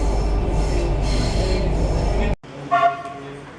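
A metro train runs with a steady loud rumble, then the sound cuts and a high, ringing squeal of wheels rises briefly near the end.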